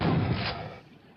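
A crackling energy burst from the thunderbolt-style energy weapon in Quake's Scourge of Armagon, loud at the start and fading over about a second, with no talk over it.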